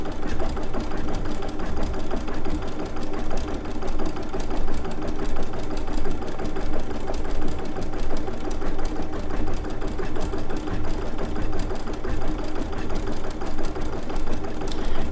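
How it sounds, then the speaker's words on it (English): An embroidery sewing machine couches yarn onto fabric, running steadily at close range for the whole stretch with a rapid, even mechanical stitching rhythm and motor hum, no voices. "It does require you to babysit the machine when you're doing this."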